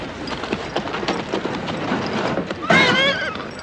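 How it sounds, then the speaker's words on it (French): Racehorses stamp and clop restlessly at the starting gates of a race, with a loud whinny rising near the end over a busy background of crowd murmur. "Les chevaux entrent maintenant dans les starting gates."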